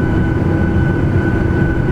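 An airliner taxis after landing, heard from inside the cabin: a loud, steady low rumble with a constant hum running through it, with no voices.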